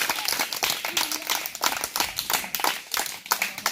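An audience at an outdoor evangelism gathering in Kokrenou applauds for Jesus: loud, dense, steady clapping from many hands, with a rhythmic pulse running through it and no clear talking on top.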